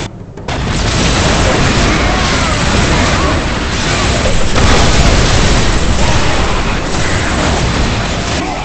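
Grenade explosions in the Warhammer 40K Soulstorm strategy game rumble as a loud, sustained wall of booming blasts that runs almost the entire stretch without letup, with faint voices in the mix.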